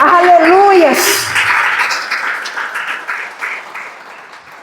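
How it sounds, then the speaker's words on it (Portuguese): A church congregation breaks into applause after a voice speaks, the clapping swelling as a dense wash and then slowly thinning out over a few seconds. "Você pode aplaudir Jesus?"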